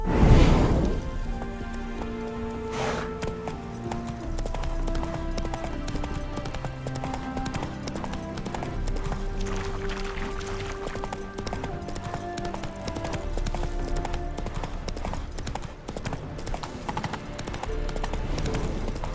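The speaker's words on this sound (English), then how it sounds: "Spooking my horse. Roach doesn't like ghosts." Roach, Geralt's horse in The Witcher 3: Wild Hunt, trots with steady clip-clopping hooves under an ongoing musical score and soft rain-like ambience, the hoofbeats moderate and close, no voices over them.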